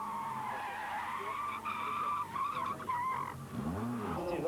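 Small Citroën AX Cup race cars skid and slide through the corners of the slippery Dijon circuit, with continuous loud engine drone and tire scrubbing throughout, rising in bursts near the end.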